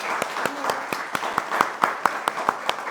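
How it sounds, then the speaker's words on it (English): Audience applauding at a municipal swearing-in ceremony, a brief burst of sharp, distinct hand claps from a smallish crowd in a room. "can you guys give him a big applause"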